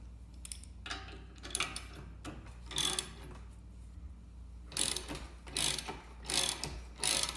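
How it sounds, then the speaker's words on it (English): A ball joint press cranked with a ratchet seats a ball joint into a Jeep Wrangler TJ Dana 30 axle, making repeated bursts of close mechanical clicking over a low steady hum, with no talk. "I'll use a ball joint press to get these going."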